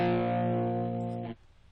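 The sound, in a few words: electric guitar through distortion pedal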